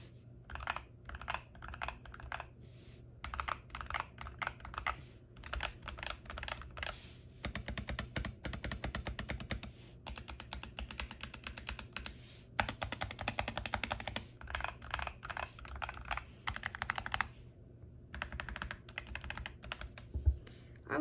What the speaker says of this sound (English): So this is what my keyboard sounds normally on a mouse pad.